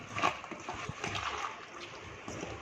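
Salted, sliced bitter gourd squeezed by hand, its bitter juice dripping out with wet splashes and soft sloshing, brief and close, the loudest splatter near the start.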